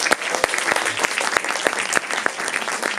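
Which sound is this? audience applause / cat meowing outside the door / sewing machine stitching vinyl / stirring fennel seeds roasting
audience applause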